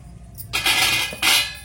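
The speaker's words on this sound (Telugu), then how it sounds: "ఈ వాటర్ కూడా ఇందులోనే." Water is poured into a cooking pot of vegetables seasoned with chili powder, salt and tamarind, two loud close splashing gushes, the second after a brief pause, with no speech.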